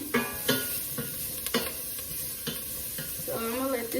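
Jerk chicken sizzles steadily in a hot, smoky pan while a utensil stirs it with a few scraping strokes. The frying noise runs continuously up close, with no talking.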